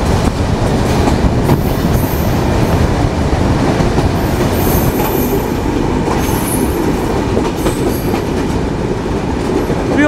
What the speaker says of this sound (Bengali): আর আজকের যাত্রাপথে আমাদের সাথে দেখা হতে যাচ্ছে আন্তনগর তুর্না এক্সপ্রেসের